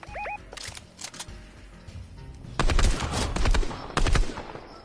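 A henchman in a video game fires a minigun in loud, dense rapid bursts, a short burst early, then a long heavy stretch and a final burst close up.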